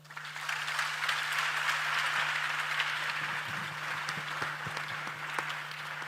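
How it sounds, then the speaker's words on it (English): An audience at a youth dialogue event in Ghana breaks into a sustained, even round of applause, dense clapping spread across the room over a steady low electrical hum. "let's hear a round of applause for our."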